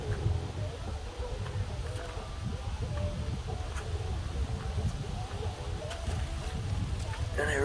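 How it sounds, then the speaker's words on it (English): Strong wind gusts across an open hilltop, a steady broadband roar with low rumbling buffets filling the whole stretch, some faint movement noises mixed in. "it's too fucking windy"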